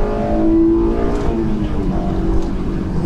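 A Honda S2000 engine revs hard during acceleration from inside the car, a loud, steady, rising drone that fills the space with no voices over it.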